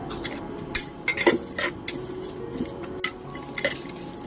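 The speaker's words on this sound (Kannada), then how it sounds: "ಖಾರ ನೋಡಿ ಹಸಿಮೆಣಸು ಹಾಕಿ ತಿರುಗಿಸಿ" Whole spices, black pepper, cardamom, bay leaf, cinnamon, cloves and stone flower, being stirred with green chillies in a pot for chicken dum biryani: light scraping and clinking of a spoon against metal in scattered bursts, close and fairly quiet, no talk.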